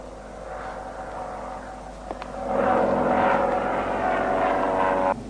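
An airplane engine drones steadily, swelling louder midway as it passes, then holds at a strong hum before cutting off abruptly, in the 1937 film Charlie Chan at the Olympics.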